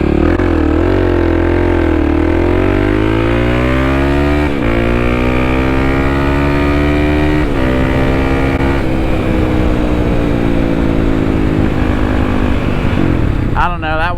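A Kawasaki KLX300 dirt bike accelerates hard from 0 to 60 mph in second gear, its loud, close engine note climbing steadily in pitch with shifts and a rider's voice faint underneath.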